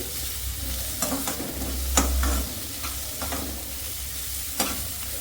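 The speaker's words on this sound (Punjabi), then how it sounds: "ਹਰੀਆਂ ਮਿਰਚਾਂ ਅਦਕਰ ਲਸਣ ਇਹਨਾਂ ਨੂੰ ਵੀ ਅਸੀਂ ਕੁੱਟ ਲਿਆ ਸੀ ਇਹਨੂੰ ਵੀ ਤੜਕੇ ਦੇ ਵਿੱਚ ਪਾ ਕੇ ਭੁੰਨਾਂਗੇ" Crushed green chillies, ginger and garlic fry in a hot tempering for a home-style cauliflower dish, a steady sizzle broken by a few sharp stirring scrapes and clinks; no talking.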